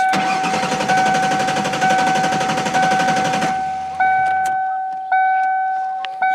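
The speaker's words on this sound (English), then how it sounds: "Crank, no start, just like he said" A Ford Taurus engine cranks fast and loud with a rapid rhythmic churning that stops abruptly, followed by steady electronic warning chimes with short clicks.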